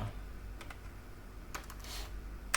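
Typing on a computer keyboard indoors, with sparse, faint key clicks in small scattered bursts over a low steady background hum.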